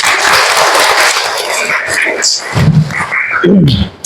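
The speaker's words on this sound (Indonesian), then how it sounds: "Tepuk tangan dulu untuk semuanya" A classroom of students clapping together during a lesson, brief bursts of applause mixed with voices and a teacher speaking over the noise.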